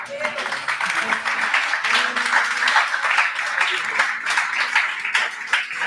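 Loud congregation applause during a Portuguese-language church sermon, dense continuous clapping with voices cheering and calling out over it throughout.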